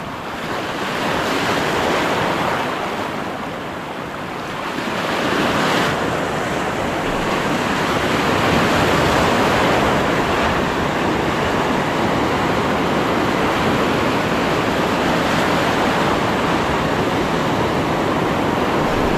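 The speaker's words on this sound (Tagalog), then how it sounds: "Malakas yung alon." Strong surf rolls and crashes continuously onto the shore during shore casting, a loud, close, unbroken roar of breaking waves with wind buffeting the microphone.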